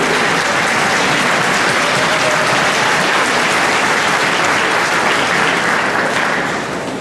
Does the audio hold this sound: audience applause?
yes